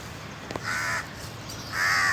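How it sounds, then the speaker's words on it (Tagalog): Two harsh, drawn-out crow caws, each lasting about a quarter second, clear and fairly close over steady background hiss. "Ayan si Arabong Uwak oh"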